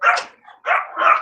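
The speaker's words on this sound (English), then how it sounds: "Stop barking so loud." A dog barks loudly and close by, three sharp barks in quick succession over about a second, with no talk over them.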